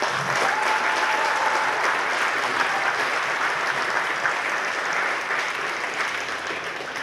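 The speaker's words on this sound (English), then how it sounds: "So a massive round of applause to all the managers." Sustained applause from a crowd at a Gaelic games final between Glynn Barntown and Oulart The Ballagh, steady and dense throughout, with a faint hint of voices underneath.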